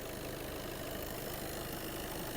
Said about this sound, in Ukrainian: Двигун працює рівненько, чистенько